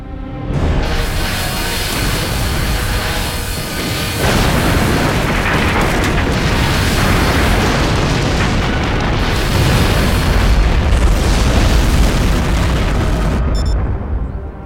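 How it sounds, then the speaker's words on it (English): Spaceship forward beam weapons in Stargate Atlantis fire in a loud, sustained sci-fi barrage of booming blasts and rumbling bursts. The roar continues almost unbroken for the whole stretch with no talking. "Stand by to fire forward beam weapons."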